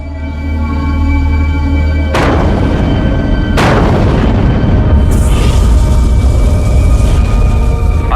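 Atomic bomb explosion from the Able test, dropped from a bomber, heard as a sustained loud roar with two sharp booming blasts followed by rumbling.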